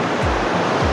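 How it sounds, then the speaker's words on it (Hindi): A river flows beneath a bridge, heard from the bridge's center as a loud, steady rush of water that fills the whole short moment. "मैं ब्रिज के सेंटर में हूँ और नीचे नदी बह रही है।"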